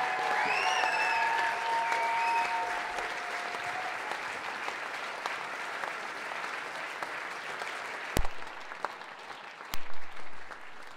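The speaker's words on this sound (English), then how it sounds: "give her a round of applause." Audience at a folk music awards show applauds steadily, a broad wash of clapping with a few whistles early on, fading somewhat before a couple of sharp bumps near the end.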